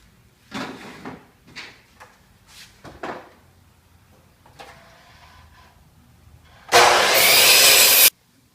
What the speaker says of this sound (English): I'm going to start cutting the pieces to make the base.